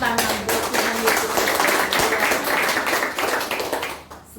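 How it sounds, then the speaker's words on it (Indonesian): A church congregation claps in praise together, a dense, loud, sustained burst of hand claps that fades out near the end, with voices mixed underneath. "Tepuk tangan buat Tuhan Yesus."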